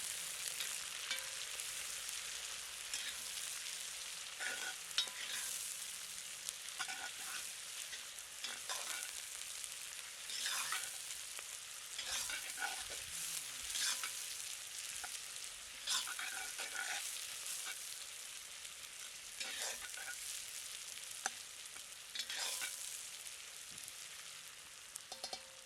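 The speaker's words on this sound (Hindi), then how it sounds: "अब प्याज को 2 से 3 मिनट भूनते हैं।" Onions fry in a Dutch oven over a village fire for a Himachali chicken curry, a steady loud sizzle broken by repeated scraping stirs and clanks of the spoon, with no voices.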